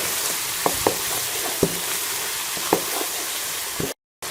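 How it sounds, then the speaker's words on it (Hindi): Biryani masala spices fry in a pan with a steady, loud sizzle, while a utensil taps and stirs a few times up close. "दो चम्मच बिरयानी मसाला डाल के हम इसे अच्छे से मिक्स कर लेंगे और मसाले को भून लेंगे।"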